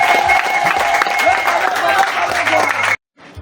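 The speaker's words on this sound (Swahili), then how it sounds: "Makofi na vigelegele." Guests at a wedding break into dense, sustained clapping mixed with high, warbling ululation and crowd noise. The sound stays loud and close for a few seconds, then cuts off sharply into near silence.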